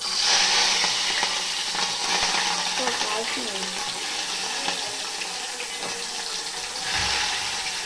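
Cumin seeds, green chillies and onions fry in oil in a pan, giving a steady, fairly loud sizzle and crackle that runs throughout without pause, with faint stirring and clinking over it.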